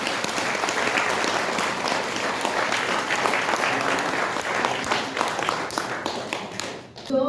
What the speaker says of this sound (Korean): 고영주 대표님께 다시 한번 격려와 감사의 박수 한번 주십니다